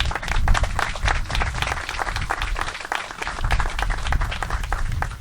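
An outdoor crowd at a river access dedication ceremony claps in dense, sustained applause, loud and close throughout with no pause.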